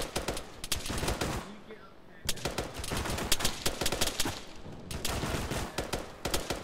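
Sustained squad gunfire pours into a town in Arma 3, with rapid overlapping rifle and machine-gun bursts, a brief lull, then renewed heavy firing.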